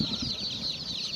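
Young chicks of colored and native hen breeds being raised, giving a dense, continuous chorus of high, thin peeping that stays steady and fairly close throughout.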